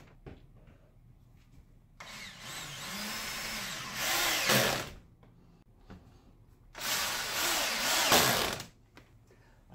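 A power drill drives screws in two sustained, close whirring bursts of about two and a half seconds each, separated by quiet pauses and faint handling noise.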